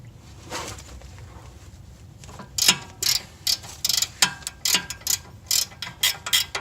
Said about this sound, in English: The next nut is behind the spindle. It's an 18 millimeter, and a ratcheting wrench fits nicely here.